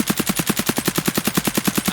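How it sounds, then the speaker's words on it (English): AKM rifle firing full auto while strafing in Escape from Tarkov, a loud, steady, evenly spaced burst of about twenty rapid shots with no pauses, with no talking. "So let's shoot while strafing now."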